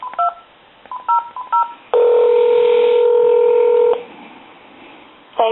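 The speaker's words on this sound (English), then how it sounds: "We'll dial, like, say, Walmart." A Uniden 2060 DECT 6.0 cordless phone on speakerphone gives a few short dialing beeps, then a steady two-second tone, followed by a quiet pause and another tone at the end.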